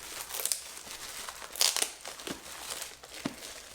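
Plastic wrapping on a book crinkles and crackles in irregular close bursts, with a sharper cluster of crinkles midway and quieter rustles around it.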